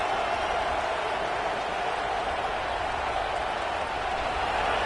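A stadium crowd in a football video game roars steadily as the defense tries for a red-zone stop, a dense continuous wash of cheering and noise with no breaks.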